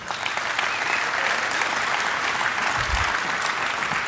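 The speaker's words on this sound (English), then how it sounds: "let's give a round of applause to Nicole." Audience applause at a DEF CON 22 security conference talk, steady dense clapping from a large crowd filling the room without pause, loud and continuous throughout.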